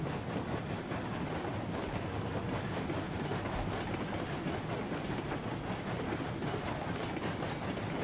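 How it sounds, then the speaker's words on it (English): An oil train chugs along the rails in RailRoads Online, a dense, continuous rumbling roll with faint rhythmic clicks and steam hiss throughout. "Oil train should keep this one chugging nice."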